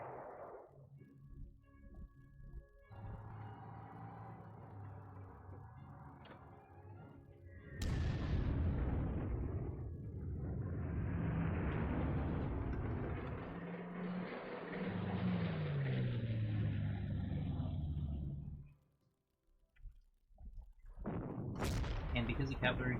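Artillery fire in the strategy video game Panzer Corps: deep booming blasts and long, loud rumbling barrages roll on for many seconds, briefly drop to near silence, then start again over a softer tonal game backdrop.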